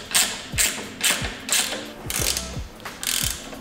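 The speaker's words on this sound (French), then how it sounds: "Tu veux un petit cliquet?" Ratchet wrench tightening a screw on a Honda inverted motocross fork, a run of about six quick, evenly spaced ratcheting clicks with mechanical creaks, close up and clear with no talking.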